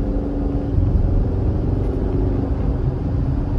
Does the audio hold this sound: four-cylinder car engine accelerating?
yes